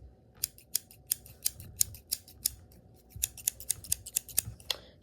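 Scissors snip through wet hair in a close, crisp series of quick cuts, each a sharp metallic snick arriving in irregular bursts over a quiet background.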